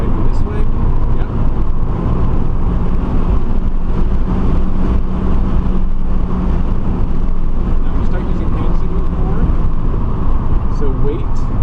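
An Audi A3 e-tron driven hard on the Thunderhill race track drones steadily under heavy road and wind roar inside the cabin, loud and continuous, with people talking over it.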